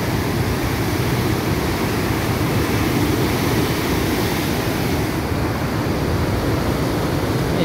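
Fast, heavy floodwater surges past in a continuous loud broadband roar, steady and close throughout with no voices heard.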